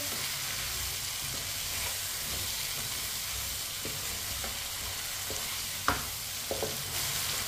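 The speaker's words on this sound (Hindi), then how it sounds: "अब इसे 1 मिनट के लिए इसी तरह चम्मच चलाते हुए पका लेंगे" Cauliflower sizzles steadily in a hot pan as a spoon stirs it. A constant hiss of frying runs throughout, with faint scrapes and a couple of sharper clinks of the spoon against the pan near the end. No one speaks.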